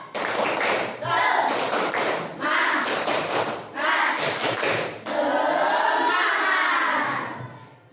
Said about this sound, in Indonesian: Mulai tepuk semangat.